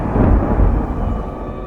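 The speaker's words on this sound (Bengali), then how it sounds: "আচমকা একটা কান ফাটা আওয়াজ করে পাশের জঙ্গলের মধ্যে একটা বাজ পড়ল" Loud, close thunderclap as lightning strikes the jungle nearby during a storm, a heavy low rumble rolling continuously without a pause.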